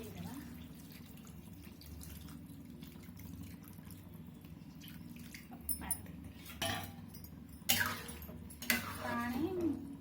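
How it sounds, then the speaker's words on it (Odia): Water is poured into a pot of pumpkin tamarind curry, a splashing rush arriving in the last few seconds after a quieter stretch of kitchen hum and small clinks. "ତେନ୍ତୁଳି ପକେଇ ସାରିଲା ପରେ ପାଣି ଦେଇଦେବା।"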